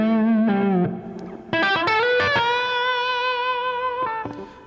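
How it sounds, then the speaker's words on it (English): Electric guitar notes ring out with a long repeating delay and a wash of reverb trailing behind, sustained tones fading slowly. "So you get a kind of a long delay now, but you hear that sort of the reverb behind it."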